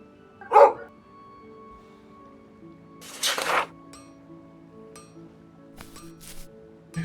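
A dog in the open-world fantasy RPG Gedonia 2 gives a few separate barks: one sharp yap up front, then a couple of fainter woofs spaced seconds apart over a quiet game backdrop.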